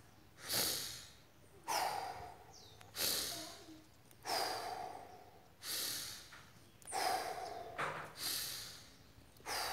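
Wim Hof method power breathing done only through the nose, with six forceful, deep inhalations in a steady rhythm about every 1.5 seconds, each a loud, close, rushing sniff that fades before the next. No one speaks.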